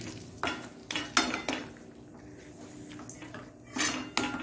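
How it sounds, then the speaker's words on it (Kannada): A pot of mustard seed tempering for Mangalore kukku saaru being stirred, with several metallic scrapes and clinks of the spoon against the pot in uneven bursts, close and fairly quiet. "ಈ ಒಗ್ಗರಣೆಯಲ್ಲಿ ಒಂದು ತಿರುಗಿಸಿಕೊಳ್ಳೋಣ ಅದನ್ನು ಚೆನ್ನಾಗಿ"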